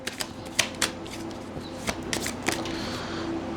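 A deck of tarot cards is shuffled in a series of sharp, rapid clicks and flutters, close and clear with short pauses between bursts.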